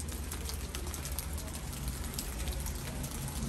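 Steady typhoon rain falls throughout, a dense, even hiss with faint pattering drops and no talking.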